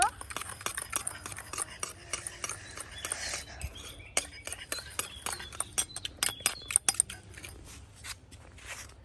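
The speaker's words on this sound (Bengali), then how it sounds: "এখন আমি ভালো করে মিশ্রণটাকে মিশিয়ে নিব" Roasted corn being tossed with chili powder, salt and lemon juice, stirred with a utensil that gives a steady run of sharp clicks and scrapes against a bowl, close and fairly loud, with no talk.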